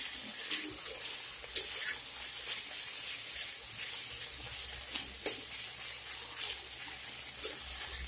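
Spices and dried shidol shutki masala sizzle and fry in oil in a pan for a Bengali moucha ghonto, with a soft continuous crackle and occasional scrapes and clinks of the stirring spoon.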